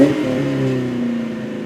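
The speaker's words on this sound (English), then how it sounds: "I went with the Flowmaster American Thunder Series catback exhaust system" A 1994-1998 Ford Mustang GT's V8 exhaust, through a Flowmaster American Thunder Series catback, revs up and holds a deep, throaty rumble, loud and close, with no voices.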